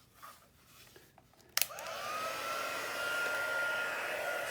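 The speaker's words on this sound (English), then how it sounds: "That has now got the white embossing powder on it, and I'm just going to quickly heat that up." A heat gun warming white embossing powder on a handmade card switches on with a click and then blows a steady, moderately loud whooshing hiss.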